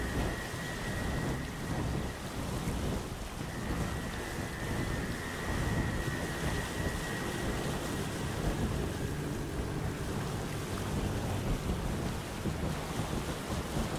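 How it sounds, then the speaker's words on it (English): Raging storm around the islands in the video game Windbound: dense, continuous roar of heavy rain and wind with rumbling thunder underneath and surf-like wash, sustained and enveloping with no voices. "the ever-raging storm that surrounds the islands"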